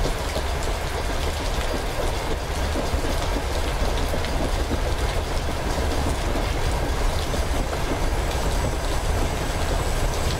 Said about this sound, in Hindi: ये देखो यार WDM 3D लोकोमोटिव के साथ में कोई एलिजिबल ट्रेन है जो कि इस लेवल क्रॉसिंग को पार कर रही है